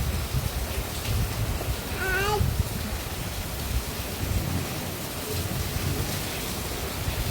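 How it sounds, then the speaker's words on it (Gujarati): Heavy rain pours steadily as a dense, even hiss that runs the whole time, with a brief cat-like meow near the middle; no thunder stands out. "બહુ જ અત્યારે વરસાદ ને ગાજવીજને ચાલુ છે."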